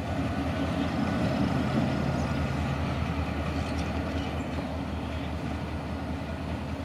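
Freight train rumbling past steadily at a switching spot, a continuous low roar with faint rail clatter, fairly close with no talk.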